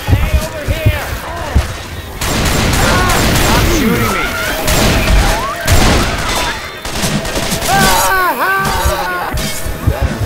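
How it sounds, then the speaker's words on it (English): Dense bursts of gunfire and crashing impacts fill a video game firefight, loud and nearly continuous, with voices talking over the shooting throughout. "Stop shooting me."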